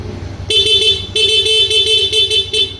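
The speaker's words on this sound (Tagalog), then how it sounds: "Check tayo ng busina mga bossing" A Yamaha Mio Soul i 125 scooter horn honks in a rapid series of short beeps, loud and close, with a steady engine hum running underneath.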